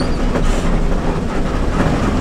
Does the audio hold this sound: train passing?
yes